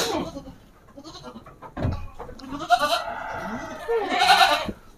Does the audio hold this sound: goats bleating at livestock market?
yes